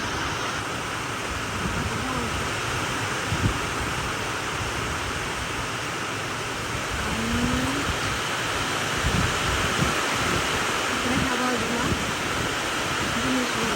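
Steady broadband hiss of rain fills the scene, with a voice talking intermittently over it and occasional gusts or handling bumps.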